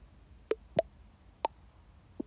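iPhone VoiceOver feedback tones for the app switcher gesture: a few short, soft electronic plops and blips spaced irregularly over quiet background, with no voice.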